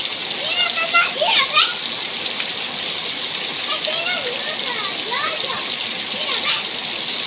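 Heavy rain pours down steadily during a hurricane, a dense, close hiss of splashing water with brief squeaky bird-like chirps over it.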